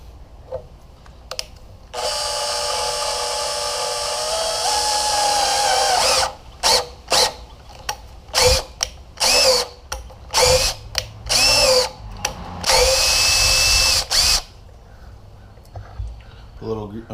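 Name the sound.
drill driving a thread tap into metal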